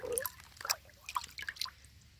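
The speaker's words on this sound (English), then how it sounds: "Fill my little tub up with water." Water is poured into a small tub outdoors, with splashes and trickles at first, then scattered bright drips and plinks that fade out, close and fairly quiet.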